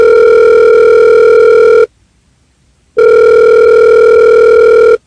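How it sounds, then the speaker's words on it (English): Telephone ringback tone heard over the line during a prank call: two loud, steady electronic rings, each close to two seconds long, separated by about a second of silence, with no talking. "I'll give them a couple more rings because old people, it takes a while to get to the phone"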